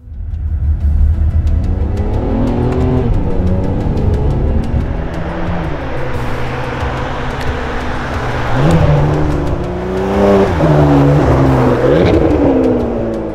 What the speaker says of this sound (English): a two-seater berlinetta with a front engine like the 599 GTB